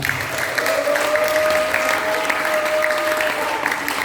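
A congregation applauding during a Christmas sermon, sustained even clapping across the hall with some voices and a steady tone underneath.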